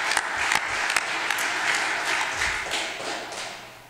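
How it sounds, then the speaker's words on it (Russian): Conference audience applause, steady clapping with a few sharp individual claps standing out near the start, gradually fading toward the end. "Аплодисменты, пожалуйста."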